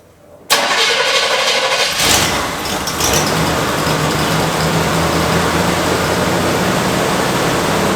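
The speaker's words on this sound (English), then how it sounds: "The truck is running really good at this point." A custom truck's carburetted engine cranks and catches after a short silence, then settles into a loud, steady, close running rumble with no voices.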